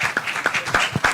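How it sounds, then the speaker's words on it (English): Applause at a book presentation, a small audience clapping in a loose, uneven rhythm with distinct individual claps, fairly close and modest in volume. "Please give him a round of applause."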